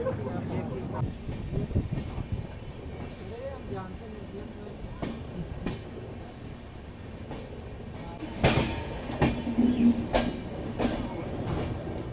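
A train rolls in with rumbling, clattering wheels and squealing brakes, under a steady mechanical noise and scattered voices.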